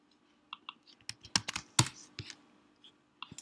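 Close, quiet keystrokes on a computer keyboard come in short irregular bursts of clicks, with brief pauses between them and a couple of heavier key presses.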